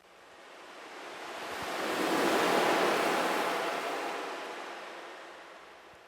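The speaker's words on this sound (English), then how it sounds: "Wave sample and then a river sample from the Cymatics Life sample pack." Ocean wave and river samples combined: a wash of rushing water swells gradually to a peak and then recedes, steady and broadband like surf rolling in and pulling back.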